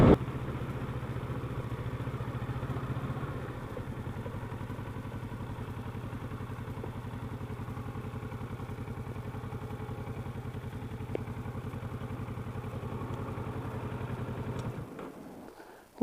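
A Kawasaki Versys 650 LT motorcycle idles after pulling into a small off-road park, a low steady throb that stays faint and even before cutting out near the end.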